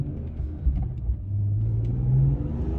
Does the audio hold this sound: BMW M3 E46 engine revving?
yes